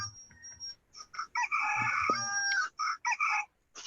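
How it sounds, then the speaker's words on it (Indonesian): Chickens cluck and squawk in a rapid series of short calls, with one longer drawn-out cry in the middle, fairly close and clear. "Ada suara ayam."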